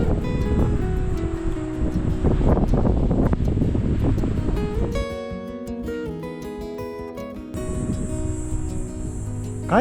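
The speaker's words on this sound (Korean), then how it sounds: "바람이 지금 굉장히 불고 있습니다" Strong wind gusts buffeting the microphone on a mountain peak in the Yeongnam Alps, loud rumbling blasts easing midway into a quieter whistling stretch before gusting again.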